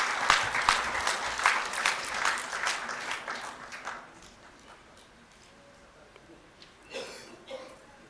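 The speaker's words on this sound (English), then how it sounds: "Please welcome them on stage with a round of applause again." An audience at a book launch claps for guests on stage, a few seconds of close, lively applause that thins out and fades into quiet room tone, with a couple of faint stray sounds near the end.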